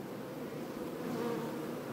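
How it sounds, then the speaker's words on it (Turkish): A honeybee colony hums steadily inside the hive as workers cluster around and tend a newly accepted queen bee, a dense, continuous close-up buzz with no voices. "Gördüğünüz gibi arkadaşlar ana arıyı temizliyorlar,"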